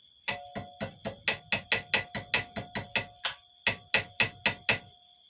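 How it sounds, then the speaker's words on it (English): A small flat-faced hammer strikes metal rings being bent into shape at a forge, a quick, steady series of about eighteen sharp ringing blows, close by, with one brief pause midway. "I'll get my smaller hammer. I'll use the flat base one."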